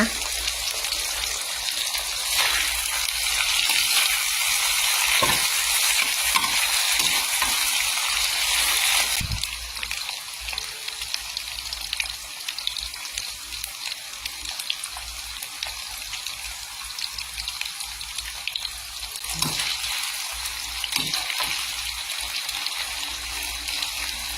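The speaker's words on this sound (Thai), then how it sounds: "สามชั้นทอดน้ำปลากินกับข้าวสวย" Marinated pork belly frying in fish sauce, a loud, dense hiss of hot oil that stays continuous throughout and eases slightly partway, heard close with faint knocks and no clear speech.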